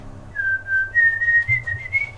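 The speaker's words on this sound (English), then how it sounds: "Is it considered copyright infringement if I whistle?" One person whistles a short, clear tune, with held notes stepping gradually higher in pitch, close and alone over faint background hum.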